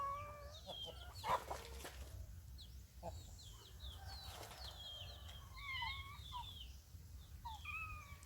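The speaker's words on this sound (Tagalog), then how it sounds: "Wang, tuwa yung mga manok sa baba." Chickens cluck and chatter steadily in a busy flock, with short calls overlapping throughout against a low background hum.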